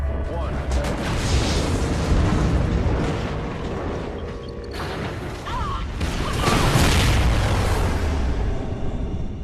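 A space station detonates in a Call of Duty: Ghosts campaign mission, a long rumbling explosion with crashing debris that swells, dips briefly and surges again, loud and continuous.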